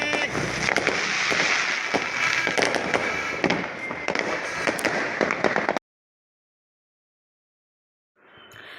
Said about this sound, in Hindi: पटाखा।